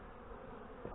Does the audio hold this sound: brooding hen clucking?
no